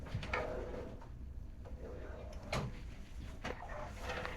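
Large drawer in an interior cabin aboard the Holland America cruise ship Nieuw Statendam being slid shut, giving a few soft thuds and knocks against a steady room hum.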